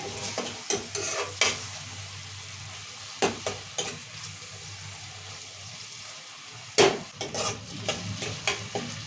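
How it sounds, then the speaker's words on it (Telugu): Tomatoes, onions and chillies fry in oil for a chicken curry, a steady soft sizzle running throughout, broken by several sharp clanks and scrapes of a spoon stirring against the pan. "ఈ టమాటాలు ఉల్లిగడ్డలు మంచిగా ఉడకాలి నూనెలా నూనెలో ఉడికేసుకోవాలి"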